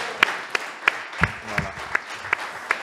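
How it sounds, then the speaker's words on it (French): A single pair of hands claps slowly and sharply in a steady rhythm, about nine crisp claps spaced evenly over a quiet background, with a brief low murmur of a voice partway through. "Voilà, on peut applaudir."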